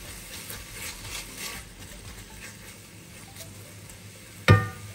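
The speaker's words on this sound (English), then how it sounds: "Just gotta saute it a little bit longer" Thai green curry paste sautés in a pan with a soft, steady sizzle and light scraping stirs, ending with one sharp clunk of a utensil against the pan.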